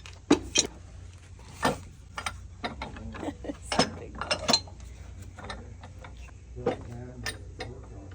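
Ratchet tightener cranked on a fitting aboard a boat, a series of irregular metallic clicks and clacks, close by, with people talking intermittently around them.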